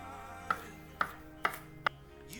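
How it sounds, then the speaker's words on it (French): A knife chops garlic on a cutting board in four sharp, separate knocks about half a second apart, close and clear with no talk. "Pour commencer, je viens donc hacher mon ail."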